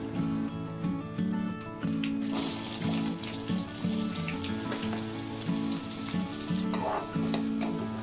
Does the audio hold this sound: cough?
no